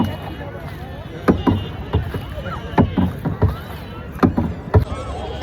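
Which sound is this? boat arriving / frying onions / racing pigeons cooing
boat arriving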